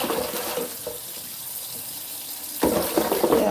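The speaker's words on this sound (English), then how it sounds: "I'll just make sure I rinse to get it all out." Tap water runs into a sink to rinse soap from a sponge, a soft trickle that swells into a louder, fuller splashing flow near the end, close and alone.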